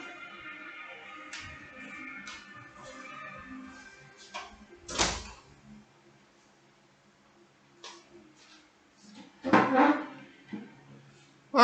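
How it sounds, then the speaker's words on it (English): A door is shut inside a quiet room, giving one soft thud in near-silence, with a few faint knocks and handling sounds around it. "close my door"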